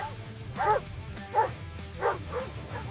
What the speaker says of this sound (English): The plot hound closes in on the massive boar.